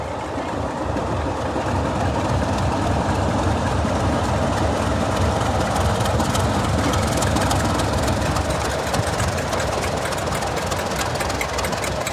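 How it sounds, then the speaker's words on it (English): Diesel locomotive 73141 pulls away from Corfe Castle on the Swanage heritage railway during a diesel gala, its heavy engine roaring steadily and loudly throughout, with rumbling wheels and no voices. "Here is 73141 heading off on a service towards Swanage"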